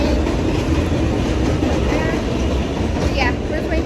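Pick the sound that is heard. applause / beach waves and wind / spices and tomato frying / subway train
subway train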